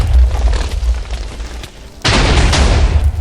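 A Minecraft explosion goes off as a sudden broad boom midway, following a dense, noisy stretch of game sound.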